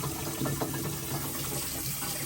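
Waste water from a van's sink tank pours out in a steady, close gushing stream, continuous and unbroken with no talk over it.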